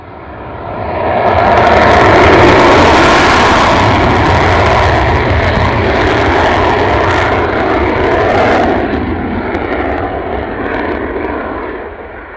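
An aircraft makes a performance takeoff with its engines roaring. The loud, close roar swells quickly, holds for several seconds, then eases slightly as it moves away.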